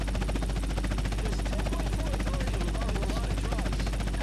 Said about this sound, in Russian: Я уже забыл, как на вертолете летать.